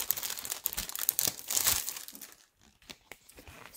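A thin plastic sticker folder crinkles and rustles as it is handled up close, with busy crackling bursts that pause briefly before a few softer crinkles return.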